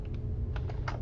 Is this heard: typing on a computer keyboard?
yes